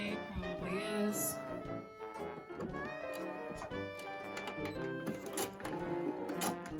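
Sewing machine stitching fabric for an Easter dress, a quiet rapid mechanical chatter running steadily with slight speed changes, heard close and alone.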